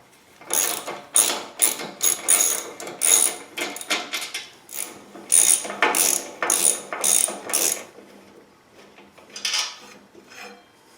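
A ratchet wrench loosens the brake caliper bolts on a motorcycle during a front wheel change, giving bursts of quick, close metallic clicks in several runs separated by short pauses, with no talking.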